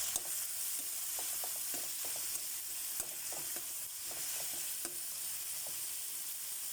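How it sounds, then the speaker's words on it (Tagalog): Garlic, onion and tomato sautéing in a pan for miso, a steady bright sizzle with soft, irregular stirring scrapes throughout, no voices. "nagisa na po tayo ng bawang sibuyas kamatis para sa miso"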